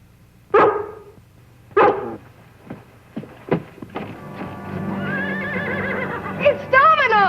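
A horse whinnies twice in loud, shaky bursts, followed by scattered knocks and thuds, then a steady hum with more high whinnying calls near the end.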